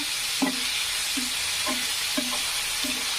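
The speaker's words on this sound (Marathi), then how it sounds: "सुनेरा होईपर्यंत असं छानपैकी तळून घ्यायचं कांद्याला" White onion frying in a pan until golden for egg bhurji, a steady hissing sizzle under five or six evenly spaced short tonal clinks of a spatula against the pan.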